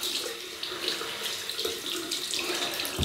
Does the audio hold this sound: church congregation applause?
no